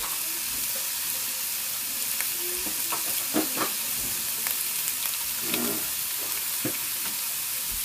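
Hot Italian sausages fry in a big pot with a steady, close sizzle, broken by occasional clicks and scrapes of stirring.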